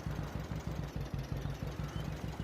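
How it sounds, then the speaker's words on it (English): An open-cab John Deere Model A tractor idles in a farming game mod, its engine giving a steady, rhythmic low chugging with evenly spaced pulses throughout. "I like this small tractor, and I like the fact that it's open cab. It sounds really good."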